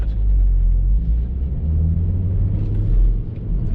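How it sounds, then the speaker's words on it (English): A Volvo V70R wagon's five-cylinder engine drones with a steady, loud low rumble from inside the cabin, swelling slightly near the end as it pulls under load, with no talking over it. "it's a 5-cylinder, you know? It kind of sounds like a Viper to me"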